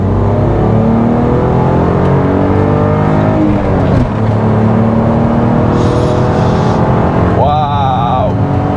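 A BMW Z3 with a six-cylinder engine accelerates hard, its engine note climbing loud and close as it pulls through the gears, with people talking over it.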